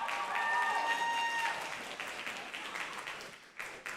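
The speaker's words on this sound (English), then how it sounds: "Can we give them a big round of applause?" Audience applause and clapping fill a school auditorium at a student Black History Month celebration, a steady crowd wash that fades toward the end, with faint voices and a sustained tone beneath it.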